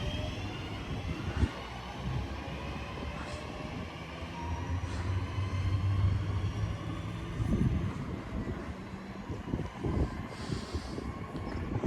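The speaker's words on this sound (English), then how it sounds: "there goes to 10:39 West Midlands Rail service to Bromsgrove via Birmingham New Street" West Midlands Railway Class 323 electric multiple units 323-213 and 323-206 running as a Bromsgrove service on the Cross City Line pass with a steady, loud rumble and rising whine, broadband noise sustained throughout.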